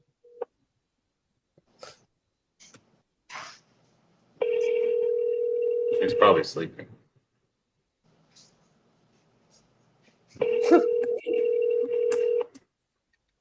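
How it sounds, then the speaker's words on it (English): A telephone rings in two long electronic bursts, each lasting about two seconds with a gap between them, close and fairly loud, with brief male speech and small handling noises around them. "What the fuck? That's my phone."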